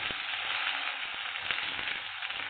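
Onions frying in hot oil with ginger garlic paste for rice kurma, a steady close sizzle with small crackles throughout, no talk over it.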